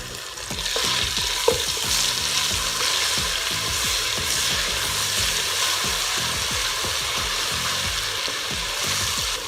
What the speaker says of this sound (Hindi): और शामिल कर दूंगी इसके अंदर अदरक लहसुन का पेस्ट, जिसमें मैंने 2 हरी मिर्चें भी साथ में पीस ली हैं।